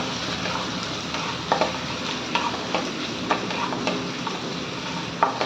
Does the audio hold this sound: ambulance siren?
no